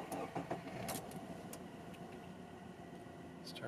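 A 1996 Subaru Legacy GT-B with a twin-turbo engine and automatic transmission cranks briefly and catches, then settles into a steady idle. The sound is close and moderately loud, with a few light clicks at the start.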